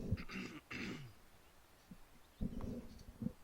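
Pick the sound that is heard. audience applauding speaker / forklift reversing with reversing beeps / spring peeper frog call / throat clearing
throat clearing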